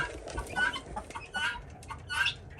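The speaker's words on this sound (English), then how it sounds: "the guineas those are my young guineas" Young guinea fowl call nearby in a series of short, high, scratchy squawks repeating roughly every half second over faint farmyard background.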